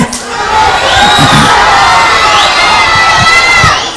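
A loud crowd of children and parents cheers and shouts continuously at a school day event, with excited whoops and high voices rising over a dense, close roar.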